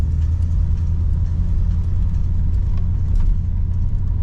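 A 1968 Chrysler Imperial with a 440 V8 runs steadily at idle nearby, a smooth, continuous low rumble with faint ticking on top and no talk.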